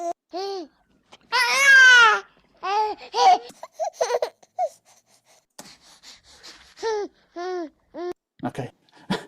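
A baby babbles and coos while feeding in short rhythmic bursts, with one louder excited squeal and small gasps between sounds.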